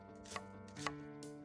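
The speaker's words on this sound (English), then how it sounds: "Half an onion. So we're just gonna slice this guy up." Half an onion sliced with a knife on a cutting board, three crisp, evenly spaced cuts, close and clear.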